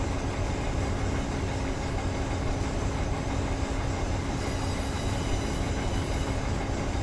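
A passenger train in the Run 8 Train Simulator game rolls along at speed, a steady loud rumble of wheels on rail with a constant low engine drone, unbroken throughout with no speech.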